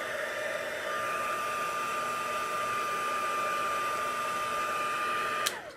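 Heat tool or hair dryer blowing over nail polish on paper cards, a steady close whirring hum with a constant pitch that runs unbroken for several seconds before a click cuts it off.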